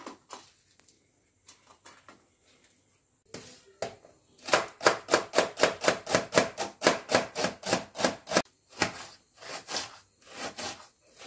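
A knife thinly slices an onion on a cutting board: a few scattered cuts, then a quick, steady run of crisp strokes that thumps against the board, close and clear, with no talking.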